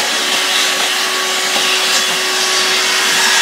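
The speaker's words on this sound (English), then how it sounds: "So then I take a vacuum." A vacuum cleaner running steadily and loudly, used for cleaning up after coffee roasting, a constant close whine with a sustained tonal hum and no talking.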